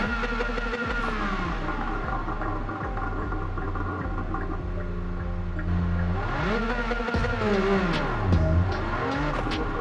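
Jaguar XJ220 engine in Gran Turismo 7, racing-modified with anti-lag, holding a high idle around 3,000 RPM, a loud steady drone with crackling pops, then rising and falling revs toward the end.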